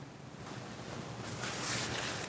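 A heater fan blowing at too high a setting, a steady broad rush of air that swells slightly louder toward the end, fairly faint and with no voices.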